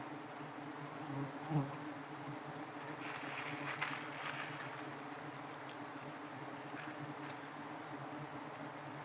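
Giant honey bees (Apis dorsata) drone in a thick, continuous buzz around a small wild forest nest, close up and steady, swelling slightly in the middle with a faint breeze behind.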